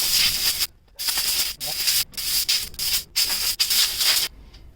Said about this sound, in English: let's get the air compressor in here